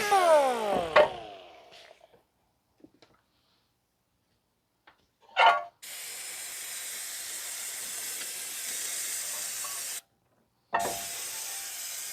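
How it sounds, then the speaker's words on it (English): A brief broadband spray burst, then a steady hiss of aerosol brake cleaner spraying on a 2017 Toyota Corolla's front brakes, running for several seconds, stopping, and resuming. "I may need to spray down with brake cleaner again"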